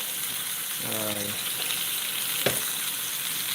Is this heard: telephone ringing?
no